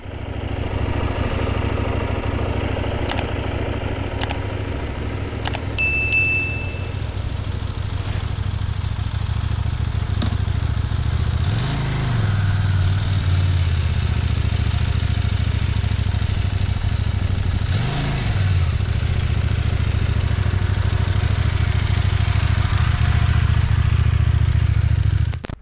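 A CFMOTO 800 MT motorcycle idles steadily and close by with an even low throb, a few brief clicks and ticks at the start, and two short dips where the idle wavers.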